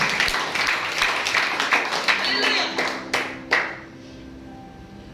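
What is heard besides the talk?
church congregation applauding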